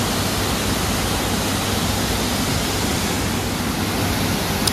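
Rushing water at Siya Devi waterfall in rainy season, a dense, steady roar of heavy falling water that fills the whole clip at close range with no letup.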